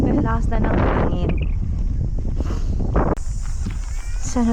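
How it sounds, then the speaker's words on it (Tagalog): Strong wind buffets the microphone at a New Zealand campsite, a loud roaring gust with footsteps and people talking over it. "Grabe, lakas na ng hangin."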